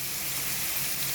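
Tomatoes frying in a pan for kothu parotta give off a steady, dense sizzle with no pauses, fairly loud and close, and no voices are heard over it.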